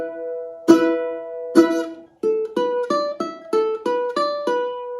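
A ukulele plays a simplified rock riff with no hammer-ons, two ringing strums followed by a quick run of evenly picked notes, close and clear with no voices.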